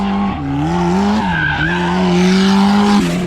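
A Mazda Miata street drifting at night, tires squealing in a loud sustained wail that bends in pitch as the car slides, with engine roar underneath, close and intense for a few seconds.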